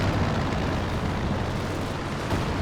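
A B4 howitzer artillery barrage in Company of Heroes 2: dense, continuous rumbling explosions and booms blend into a loud, heavy roar with no clear breaks, and no talking.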